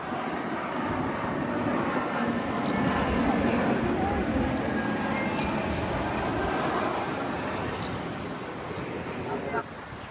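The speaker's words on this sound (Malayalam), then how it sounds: "ഒരു ഫ്ലൈറ്റ് വരുന്നുണ്ട്" A broad, steady engine roar of an airplane passing overhead at the Sheikh Zayed Grand Mosque, Abu Dhabi, fills the clip, swelling slightly and then easing, with faint voices in the background.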